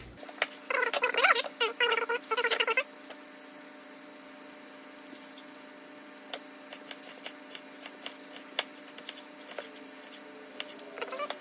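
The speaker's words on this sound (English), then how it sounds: "I'm gonna have to cut this kind of thick because my girlfriend hates onions" A knife slices an onion thickly in a home kitchen, giving a quick burst of crisp chopping strokes near the start, then sparse faint taps and clicks over a low steady hum.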